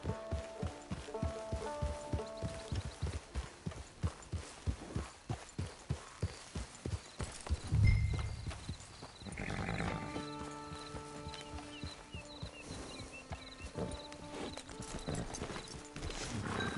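Regular clip-clop of horse hooves in the video game Red Dead Redemption 2 at a steady walking pace, followed by a loud thump and then a quieter, busier stretch with some tonal sounds.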